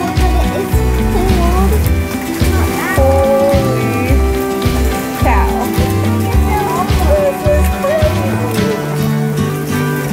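Steady, heavy drumming of hail or hard rain pounding a surface, dense and continuous throughout, with voices talking and exclaiming over it.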